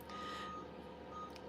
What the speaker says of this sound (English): You guys hear that backing up noise?